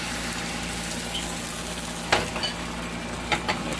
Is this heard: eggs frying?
yes